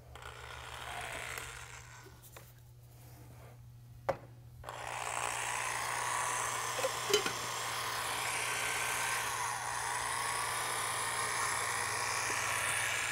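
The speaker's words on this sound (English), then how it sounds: "Now we start our mixing." Self-leveling epoxy coating being mixed with filler powder, a continuous whirring drill-driven mixer with a low hum, starting after a few quiet seconds and running steadily with occasional clicks.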